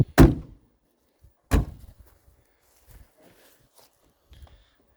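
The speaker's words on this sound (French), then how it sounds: "fermons les portes" Two solid thunks as the doors of a Citroën CX are shut one after the other, the first slam sharper and louder, followed by faint shuffling and small knocks in a quiet setting.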